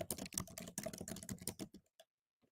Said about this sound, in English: Can you guys hear me frantically typing?